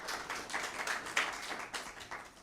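An audience at a Christmas mushaira claps to welcome a poet to the stage, with many hands beating a loose rhythm in short swells that fade slightly toward the end.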